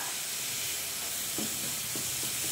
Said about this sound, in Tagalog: Ayan guys, pinafry ko yung bacon. Hindi po ako naglalagay ng mantika.